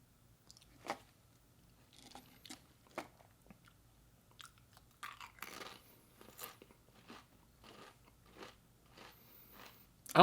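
Crisp crunching and chewing of Scorching Sour Cream and Onion Pringles chips, close up and fairly quiet, with irregular bites and chews spaced through a near-silent room.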